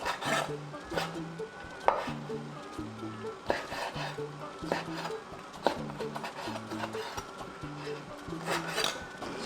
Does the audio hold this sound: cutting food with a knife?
yes